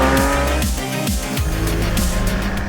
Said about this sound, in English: just like driving over the metal potholes at 40 kilometers an hour